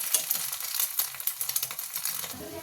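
An omelette fries in a pan, giving a close, crackling sizzle with quick irregular pops and spatters, fairly quiet, with no voices.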